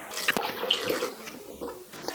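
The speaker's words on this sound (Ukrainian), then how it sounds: "Наливаємо ми засіб спочатку в мірну ємкість" An acidic professional cleaning agent is poured into a measuring container, giving a soft, brief liquid trickle with faint splashes, quiet and close, with no talking.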